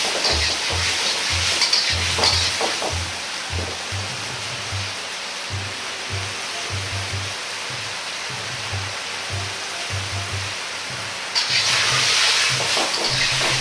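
Burdock root simmers in a sweet vinegar sauce over high heat, giving a steady, dense bubbling hiss close by, with a rhythmic low thumping beat running beneath it.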